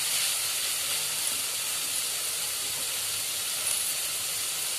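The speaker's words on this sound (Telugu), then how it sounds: "ఇలా పచ్చివాసన పోయేంత వరకు వీటిని వేయించుకోవాలండి బాగా" Spices frying in a hot pan until browned for a bread sandwich, giving a loud, steady hiss and sizzle that runs without a break, close to the listener and alone.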